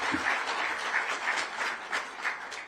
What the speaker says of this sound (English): I think we must clap for the initiators of this.